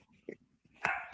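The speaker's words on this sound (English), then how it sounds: "Your dog is barking at somebody." A dog barks a couple of short, sharp times at someone, the barks loud and close amid quieter household sounds and brief speech.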